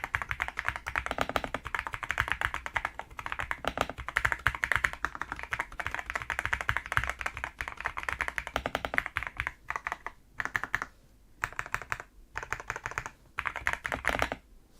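Rapid clacking of an MSI Forge GK600 TKL wireless mechanical keyboard in a fast, continuous typing rhythm up close, with a few brief pauses toward the end.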